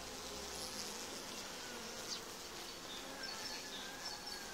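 Bees buzzing around an opened hive, a faint, steady high drone of many insects with no talking.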